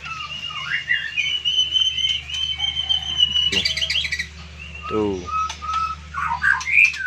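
A young white-rumped shama (murai batu) gives varied whistles, chirps and trills at close range, with a steady low hum underneath and someone speaking briefly.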